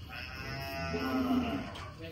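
A Gir cow lows once, a drawn-out moo swelling at a busy cattle market, with faint crowd noise around it.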